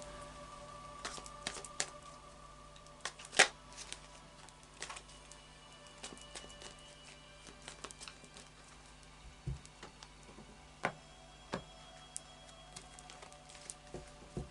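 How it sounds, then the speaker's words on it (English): Light Seers Tarot deck being shuffled close by, with soft card riffles and scattered light taps and flicks over a quiet background, one sharper snap standing out. "Let's do a final shuffle of the Light Seers Tarot."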